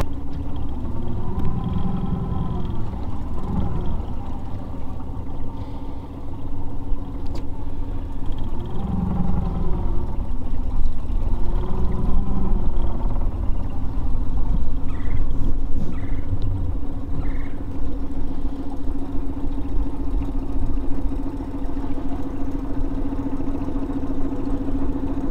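A micro skiff's small outboard engine idles continuously during break-in, a steady low rumble, even and unhurried, with a faint higher whine riding on top and no voices.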